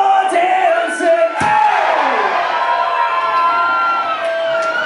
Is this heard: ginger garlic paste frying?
no